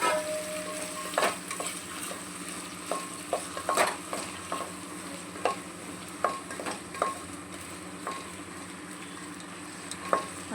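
Soaked soybeans sizzle in hot oil with vegetables in a pan, a steady frying hiss punctuated by irregular scrapes and clinks of a spoon stirring against the pot.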